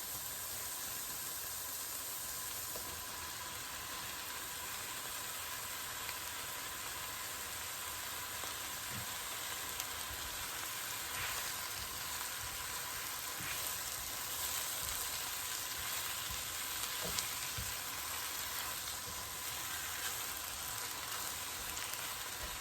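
Spinach sizzles steadily in a hot pan for a quesadilla filling, a continuous even frying hiss with no voices over it.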